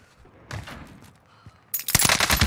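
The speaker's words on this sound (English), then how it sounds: "We're taking fire!" Bursts of rapid video-game gunfire come in a quieter distant patter first, then a loud dense volley of close automatic shots near the end.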